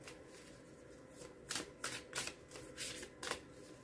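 Tarot cards are shuffled for a general reading, with several quick riffling bursts in close succession against a quiet background.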